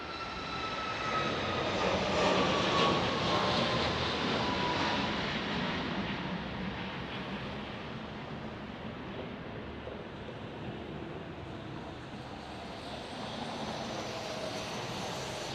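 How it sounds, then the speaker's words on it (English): A Boeing 737 MAX 8 jet departs Dallas Love Field, heard as a broad, distant roar that swells over the first few seconds and then fades slowly into a steady rumble. No voices are heard. "here comes a 737 MAX 8 departing"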